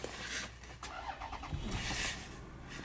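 A 2003 Toyota Avalon engine cranks and starts on a cold day, then settles into a close, low idle with some brief revving.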